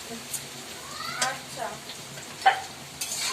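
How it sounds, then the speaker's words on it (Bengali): Food frying in a pan, a soft steady sizzle with a few brief stirring scrapes and clinks, heard fairly quietly under a faint background voice. "এটা একদম লাল লাল করে ভাজা হবে"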